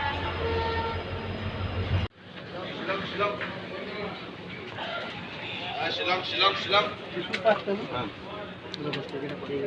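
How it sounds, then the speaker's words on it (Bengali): Train noise at Guwahati railway station on a cold day, a steady rumble with horn-like tones, then a busier wash of station clatter and voices after a sudden cut; people talk throughout. "আর এটা হচ্ছে গুয়াহাটি স্টেশন"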